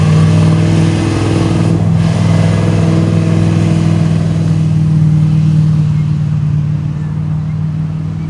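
A classic car rolls up the road close by, its mid-pitched engine humming loud and steady with a slight rev, holding strong before easing off near the end.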